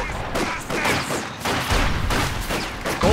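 Dense battlefield gunfire from the Company of Heroes 2 Soviet campaign, a continuous fusillade of rifle and machine-gun bursts with a low rumble beneath, loud and sustained throughout with a voice faintly mixed in.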